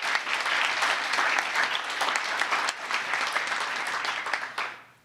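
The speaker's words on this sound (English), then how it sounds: "Give yourselves a round of applause, would you please?" Sustained audience applause fills a large rally for the sanctity of life, dense and steady clapping from a big crowd that holds strong for several seconds before fading out at the end.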